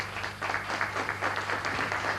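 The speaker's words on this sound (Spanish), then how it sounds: "Vamos a recibir con un aplauso muy afectuoso," A hall audience gives warm applause to the honoree at a 2001 tribute evening for Roberto "Tito" Cossa: continuous, moderately distant clapping from many people with a faint steady hum beneath.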